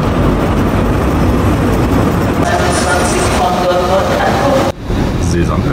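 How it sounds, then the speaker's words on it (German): Inside a moving train bound for Mannheim, a steady rumbling rolling noise with a brief dip near the end, constant and close around the listener. "ich sitze wieder im Zug Richtung Mannheim"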